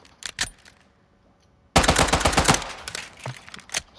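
Gunfire from a gun in Call of Duty: two quick isolated shots, a pause, then a dense rapid full-auto burst followed by a few scattered trailing shots, loud and close with no talking.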